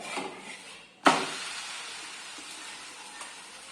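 An aloo paratha sizzles on a hot pan just after being flipped, a sharp slap-like crackle as it lands followed by a softer, continuous fry that fades slightly, close up with no talking.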